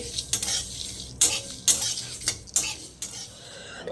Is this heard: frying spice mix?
yes